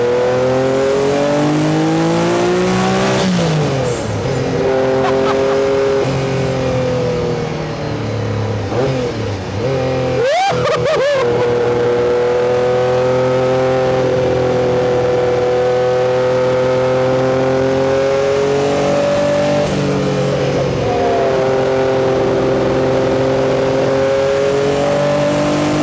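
A Porsche Group C race car at Le Mans holds a loud, steady engine note close up, with a sharp blip and a drop in pitch at a downshift midway before the drone continues alone.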